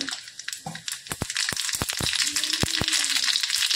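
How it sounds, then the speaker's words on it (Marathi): Mustard seeds and cumin crackle in hot oil as a tempering for a cluster-bean (gawar) vegetable dish, giving close, sharp pops scattered over a continuous sizzle. "आणि छानपैकी अशी फोडणी तडतडते"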